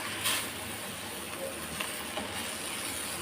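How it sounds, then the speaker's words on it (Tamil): Heavy rain pours down steadily outside during monsoon-style weather while greens are being cooked, a dense continuous hiss that stays constant with no voices. "சரியான மழை, நிறைய ஜோராக வந்துட்டுருக்கு."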